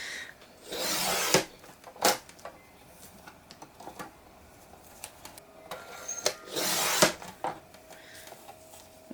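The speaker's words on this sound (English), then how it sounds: "I am going to cut this into 3 equal sections" Scissors snipping through a card covered in washi tape, a few separate cutting strokes and paper rustles, close and quiet with no talking.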